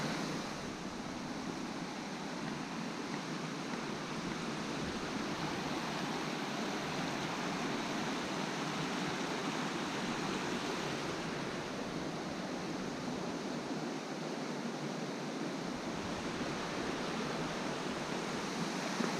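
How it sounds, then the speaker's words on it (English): A small waterfall at Gibson Mill makes a steady, faint wash of falling water. The hiss stays even and unbroken throughout, with no voices over it. "Another little waterfall over there."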